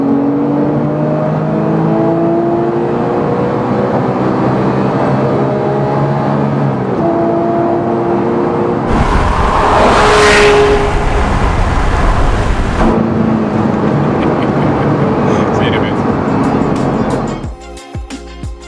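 A Porsche 997.2 911 GT3 engine revs loud and close while driving, its pitch climbing and falling through the gears, with a sharp high-rev burst midway before the sound cuts off abruptly.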